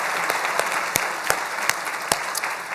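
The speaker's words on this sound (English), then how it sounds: "let's give them a round of applause" An audience at a community breakfast event claps in a sustained round of applause, dense and steady with a few sharper individual claps standing out, no voices over it.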